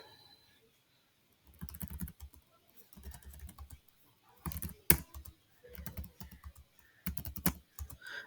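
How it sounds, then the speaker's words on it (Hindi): Typing numbers into an Excel spreadsheet on a computer keyboard, with several short bursts of close, fairly quiet key clicks separated by pauses and no talking. "अब यहाँ पे मैं नंबर लिखता हूँ"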